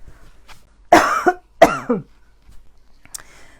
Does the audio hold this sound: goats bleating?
no